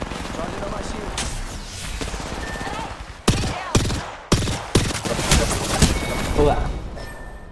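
Gunfire in the battle royale game Apex Legends: a stretch of muffled rapid weapon fire, then a series of loud, sharp bursts and single shots in the second half, with a player's voice mixed in.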